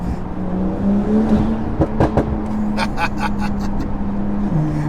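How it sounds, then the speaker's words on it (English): A car engine idles steadily, broken by a string of sharp exhaust pops and crackles in quick bursts, loud and close. "And then obviously the snaps from the exhaust."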